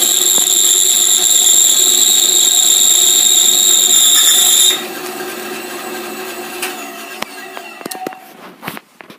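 A bandsaw cuts through a wooden board with a steady high whine, loud and close, then winds down into scattered clicks and knocks from the shop.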